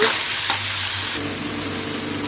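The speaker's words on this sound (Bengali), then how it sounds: "সব রকম সবজি কাটাগুলো দিয়ে দিচ্ছি আবারও নেড়ে চেড়ে ভালো করে কষে নেব" Chopped vegetables for sambar dal sizzle loudly in hot oil while being stirred, a dense continuous hiss with a brief scrape partway through.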